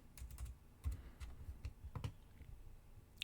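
Quiet computer keyboard typing: a run of light, irregular key clicks in quick bursts with short pauses, close and alone.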